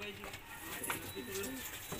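Indian fantail fancy pigeons coo in soft, low, rolling calls close by while someone talks over them.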